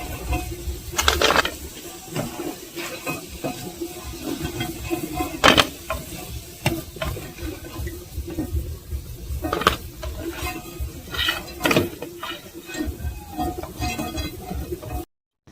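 Lentil fritters (dal bora) frying in hot oil, a constant close sizzle with scattered sharp clinks and scrapes of a utensil against the pan as pieces are lifted out one by one, no talking.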